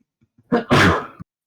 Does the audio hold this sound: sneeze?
yes